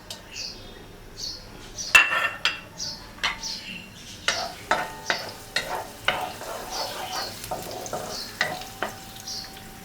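Sliced onions and slit green chillies fry in oil with a soft sizzle under a rhythmic run of stirring strokes, a spoon knocking and scraping against the pan about once a second.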